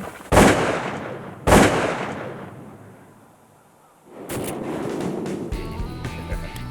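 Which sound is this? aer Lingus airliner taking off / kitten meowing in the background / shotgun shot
shotgun shot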